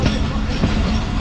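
Tezgam passenger train travelling from Rawalpindi to Karachi, a loud continuous rumble of wheels on rails heard from inside the coach, with faint murmuring voices beneath.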